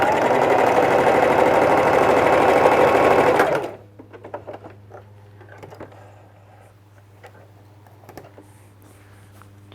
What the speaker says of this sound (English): Sew back towards the center seam, stopping a 1/2 inch to 3/4 of an inch away from the center seam